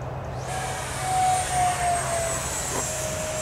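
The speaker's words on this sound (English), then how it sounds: "Nice exhibition pass, displaying the upper part of the plane" Model Vulcan jet aircraft making an exhibition pass, a high whining turbine tone that swells as it sweeps by, then fades back into a steady hum.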